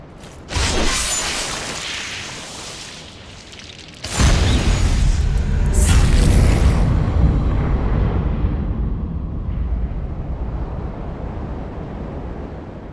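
An eclipse ceremony animation in Dark Souls 3 opens with a deep boom. A second, louder rumbling surge follows and swells into a sustained roar that slowly fades away.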